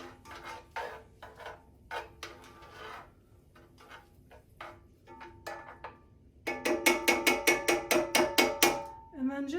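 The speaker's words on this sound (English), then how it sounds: "And I just stir it all around the pan." A utensil scrapes and stirs meatball sauce with onions and browned bits around a pan, soft rubbing strokes that give way to a fast run of loud rhythmic clinks near the end.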